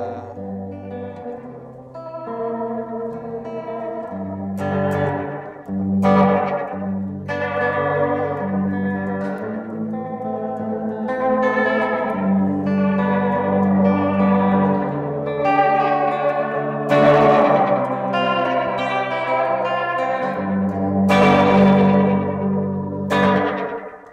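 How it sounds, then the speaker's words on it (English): Electric guitar run through Paradox Effects Oniric and Arquitecto pedals, sustained chords and notes washed in swirling modulation with a trailing echo shadow, loud and continuous without talk. "a swirling modulation, a shadow right behind it. It's a very cool sound"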